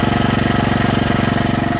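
A used Kohler K91 small engine with a leaking head gasket runs through its initial break-in, idling loud and close with a steady, fast, even chugging pulse throughout.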